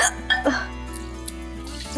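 A woman with a bad bout of hiccups in a domestic scene from a Marathi TV serial, a few short sharp hiccups sounding close over a low steady background hum.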